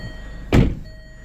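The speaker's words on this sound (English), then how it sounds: "Let's close the door a second." A Land Rover car door swings shut with a single solid thunk, close by and brief, set against a quiet interior hum.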